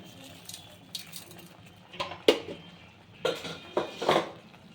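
A spoon scrapes and clinks against a pan while garam masala and salt are stirred into a mutton gravy curry, coming as a few close, irregular metallic knocks and scrapes over a quiet background.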